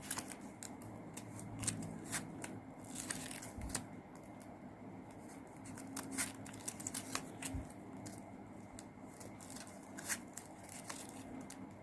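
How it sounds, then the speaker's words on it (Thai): Scissors trim off the end of a ribbon while a lotus-shaped ribbon coin favour is folded, giving many close, crisp snips and rustles in irregular quick bursts throughout. "ตัดปลายริบบิ้นทิ้ง"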